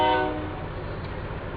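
A train passes near a railroad crossing, starting with a brief horn blast that fades into a steady rumble of rolling cars, with no talking.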